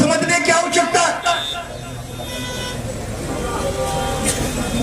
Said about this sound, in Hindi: भैया ये गाड़ी वाले हॉर्न जो दे रहे हैं वो बंद कर दे प्लीज।